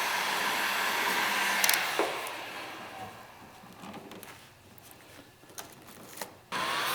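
A heat gun blows hot air over vinyl wrap film on a GT500 hood, a steady loud roar for about two seconds that drops to a softer hiss, with faint rubbing and handling noises and a brief return of the blast at the end.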